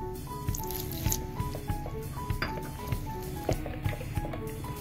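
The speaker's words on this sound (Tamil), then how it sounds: "இப்போ கொஞ்சமா தண்ணி ஊத்திட்டு இதை மிக்ஸ் பண்ணிடலாம்." Egg bonda batter is stirred with a splash of added water, giving repeated wet squelches and soft drips in an uneven rhythm, close by with no talk.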